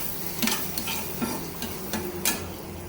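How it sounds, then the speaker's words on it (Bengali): Onion and chili frying in a pan for a prawn mash, a close sizzle broken by several quick stirring scrapes of a spatula, no voices. "এই যে চিংড়ি মাছ ভর্তায় একটু পেঁয়াজ মরিচ ভাইজা দিব"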